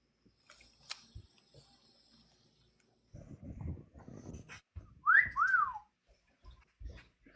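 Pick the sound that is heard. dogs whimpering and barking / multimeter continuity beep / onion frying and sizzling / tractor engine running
dogs whimpering and barking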